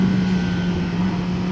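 A 2025 Kawasaki ZX-10R Ninja sportbike engine holds a loud, steady, close-up drone throughout, with no clear rise in pitch and no voices.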